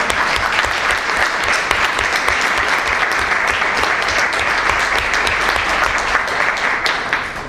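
Sustained audience applause at a book fair presentation, a dense steady clapping that fills the room at a loud level throughout, with no voices over it.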